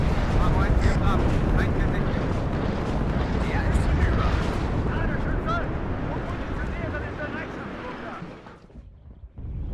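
Artillery barrage in the Cold War strategy game WARNO, a continuous heavy roar of overlapping shell explosions and rumbling booms, loud and dense, easing off in the final second.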